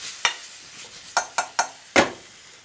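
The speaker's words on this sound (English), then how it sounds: "Give it a good stir." A spoon or spatula scrapes and knocks against a pan as potatoes for restaurant-style Bombay potatoes are stirred, giving five or six sharp, close clacks at uneven intervals over a faint sizzle.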